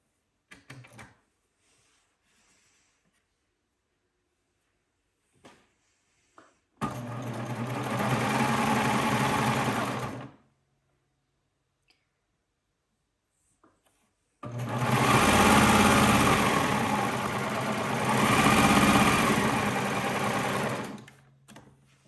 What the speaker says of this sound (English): We are just going to serge those together.